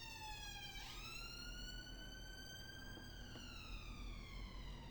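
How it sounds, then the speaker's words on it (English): Police siren in a street scene of the VR GeoGuessr video game, a wailing tone that dips then sweeps upward and holds a rising-falling wail, steady and continuous at moderate distance. "Sirens, check that off your bingo card, guys."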